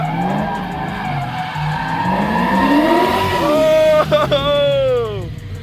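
A Nissan 240SX fitted with a V8 Corvette engine drives hard, its roaring engine note rising and falling as tires squeal and skid, loud and close throughout, ending in a sharp burst of gear-change harmonics.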